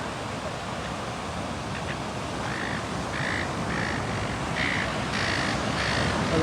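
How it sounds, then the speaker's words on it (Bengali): Birds calling near a beach, a few short harsh squawks rising over steady wind and surf noise, moderately distant and intermittent. "এই যে দুটা পাখি"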